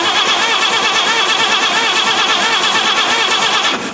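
A 1950 Chevy engine cranking with the ignition on, a loud, steady, churning starter drone held for several seconds before it drops off at the end.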